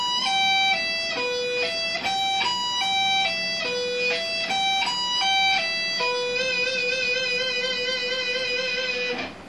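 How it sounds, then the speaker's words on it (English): Electric guitar playing a three-string sweep-picked arpeggio slowly, clean notes rising and falling in an even repeating pattern before a sustained ringing chord, clear and up close with no talk. "So a 3-string arpeggio played slow would sound like this."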